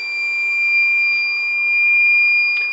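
A beeper on a 150-amp Bluetooth BMS for a 120Ah LG battery sounds at shut-off. It gives a steady, piercing electronic tone that holds unbroken from start to end.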